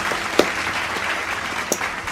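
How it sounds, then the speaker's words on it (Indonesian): A congregation at a prayer night applauds in a soft, sustained patter, with a couple of sharper, louder claps standing out. "mari sekali lagi kita berikan tepukan yang gemuruh kepada Tuhan Yesus Kristus kita"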